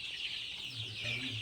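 Chickens on a country native-chicken farm clucking softly and continuously, a low steady murmur of fowl throughout with no clear voices.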